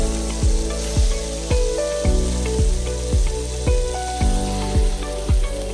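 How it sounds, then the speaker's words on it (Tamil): Chicken frying in butter for butter chicken masala gives a steady, close sizzle with regular pulsing thumps about every half second, and no talking. "இப்போ கொஞ்சம் பட்டர் ஆட் பண்ணிட்டு சிக்கனை ஃப்ரை பண்ணுங்க."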